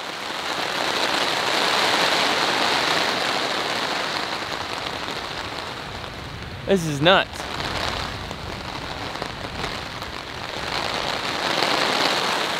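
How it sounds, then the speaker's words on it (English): Driving rain pours steadily onto a wilderness camp in the Canadian Rockies, a dense, constant hiss that fills the whole stretch, with a brief spoken voice cutting in near the middle. "It's driving rain and"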